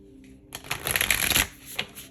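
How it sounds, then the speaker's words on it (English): Tarot cards being shuffled, a brisk, close riffling rush of card edges lasting about a second, then a softer flick as a card is pulled. "So let's keep pulling cards here."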